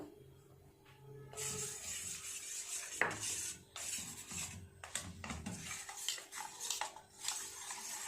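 A fish chop batter with cornflour is mixed in a bowl, a spoon scraping and clinking steadily against the sides in quick, uneven strokes, close and fairly quiet, with one sharper knock partway through.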